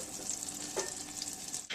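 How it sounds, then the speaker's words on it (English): Butter and honey sizzle in a pan over medium-high heat, a steady close frying hiss with a brief louder crackle midway and no talking. "So now that this is sizzling away"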